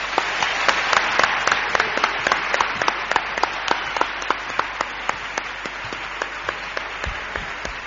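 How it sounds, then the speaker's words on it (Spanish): A studio audience on a late-night radio programme applauds in a steady, dense burst, with individual claps standing out sharply above the crowd's wash, continuing evenly throughout. "Pido un aplauso."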